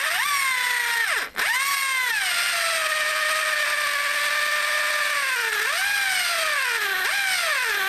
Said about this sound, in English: You make sure the auger bit is cutting.